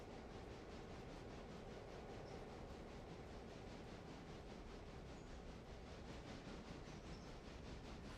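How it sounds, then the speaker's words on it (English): Small diesel locomotive idling and rumbling in Realistic Railroader, a steady broadband engine drone with faint regular pulsing, constant and moderately quiet with no voices. "I like that little diesel locomotive."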